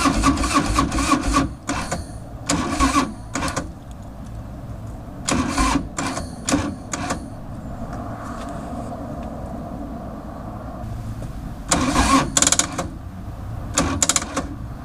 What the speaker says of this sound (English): The engine wasn't even engaging.